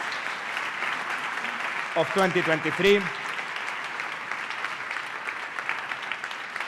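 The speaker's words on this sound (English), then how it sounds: "A huge applause for the 10 most empowering companies" Audience applause for the ten most empowering companies at a 2023 business awards event, a steady dense crowd clapping throughout with a brief burst of speech in the middle.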